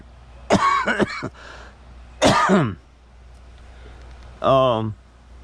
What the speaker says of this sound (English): That nagging little cough.